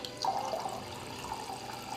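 Waterfall water spills and splashes inside a video-game airport building, a soft, continuous liquid wash at moderate volume, with no voices.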